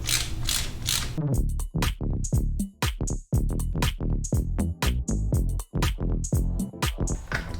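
A ratchet wrench works a bolt loose during clutch work on a 2004 Yamaha R1, giving rapid close clicking strokes in quick bursts with short pauses between them.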